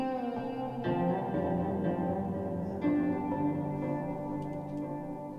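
Layered synthesizer presets play a sustained, reverberant chord texture with a percussive echo layer that repeats and trails off behind it. No voices are heard.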